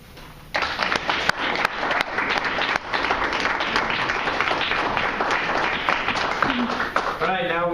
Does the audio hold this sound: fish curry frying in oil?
no